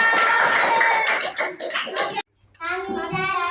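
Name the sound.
class clapping hands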